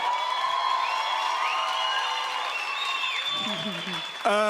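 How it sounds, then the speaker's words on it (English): Audience applause and cheering at a church youth celebration night, with a crowd clapping steadily through the room, musical tones lingering over it and a burst of voices near the end. "Can we give them another round of applause?"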